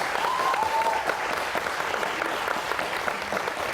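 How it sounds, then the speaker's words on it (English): Audience applause for the winner of a final debate on a leadership reality show, a steady crowd clapping throughout, moderately loud, with a brief faint tone near the start. "Give him a round of applause"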